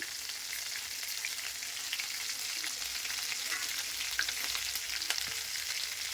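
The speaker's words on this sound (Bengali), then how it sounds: "ওই মাছ ভাজার তেলের উপরে আমি এখন জিরা ফোড়ন দিচ্ছি" Cumin seeds crackle in hot oil left over from frying fish, a continuous, even, hissing sizzle with scattered tiny pops, close and steady throughout.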